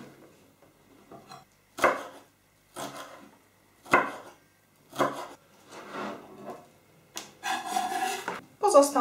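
Knife dicing a fresh green cucumber and pickled gherkins into cubes on a cutting board, heard as several separate bursts of chopping taps and scraping, moderately close, with brief pauses between and a denser run of cuts near the end.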